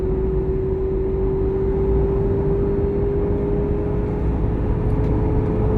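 A Corvette C8 Z06 with aftermarket Concept 841 headers cruises steadily at 3,500 RPM in third gear, a constant loud engine drone with a sustained hum, no talking.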